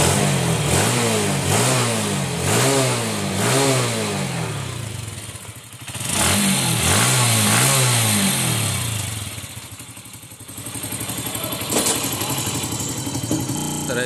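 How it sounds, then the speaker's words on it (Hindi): A motorcycle engine with a carburetor fault from water getting in revs repeatedly in quick bursts, dips to a rough idle, then revs again, loud and close. "गाड़ी बढ़िया से एक्सीलेटर लेने लगी है"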